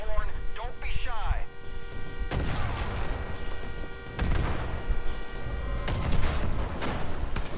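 Gunfire in the open-world shooter Far Cry 5, with sharp loud shots cracking out at intervals over a busy, constant game soundscape, alongside talking voices.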